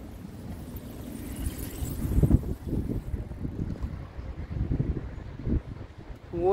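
Wind gusting outdoors on a square in Kraków, a steady low rumble of buffeting against the microphone with rising and falling gusts, no talking.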